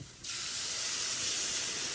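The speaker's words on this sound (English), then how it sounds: "And we're going to add in some beef broth." Beef broth hits a hot pan of cottage pie filling, and a sudden, loud, steady hiss and sizzle bursts up and holds without pause.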